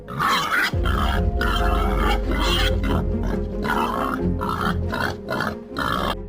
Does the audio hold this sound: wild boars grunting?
yes